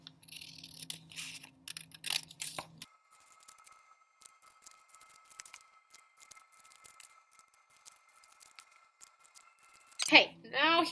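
Scissors snipping a paper snowflake, with a short burst of crisp cuts at the start, a long quiet stretch with a faint tone, and more snipping at the end as a voice speaks nearby.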